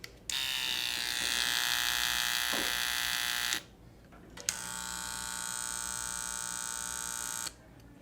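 A black cordless Fast Feed hair clipper runs with a steady, bright buzzing whir in two bursts of about three seconds each, separated by a short pause with a click as it switches off and on again, close and moderately loud.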